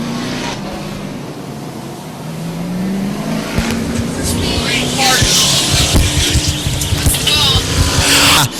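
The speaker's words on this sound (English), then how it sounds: "Green flag's out. We're racing." Race cars accelerating as the green flag drops at a super late model dirt track event, engines building from a steady drone to a loud, dense roar with tire noise, an announcer's voice running over the top.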